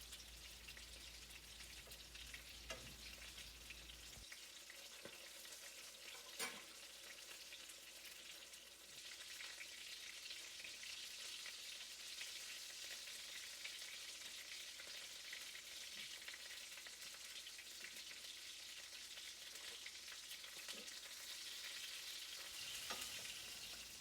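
Panko-breaded chicken breasts fry in hot oil with a soft, steady crackling sizzle, faint and continuous, with a few sharper pops and clicks scattered throughout.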